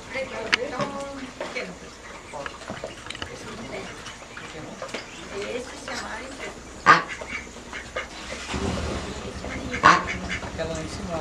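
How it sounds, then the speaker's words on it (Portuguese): Ducks quack repeatedly at close range, a few louder calls standing out, while people talk over the flock. "Patos diferentes, bonitos"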